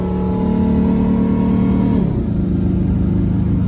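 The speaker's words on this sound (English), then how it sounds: "Now we've got to accelerate to the speed limit, hold the speed limit all the way up, if the Ranger can do that." A Ford Ranger engine strains under full throttle while towing 2,600 pounds up a mountain pass, a loud steady drone whose pitch dips and shifts partway through as the load pulls on it, with no talk.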